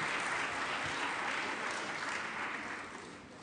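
An audience on a state senate floor applauds a staff member's service, a dense, steady wash of clapping from many people that thins slightly toward the end.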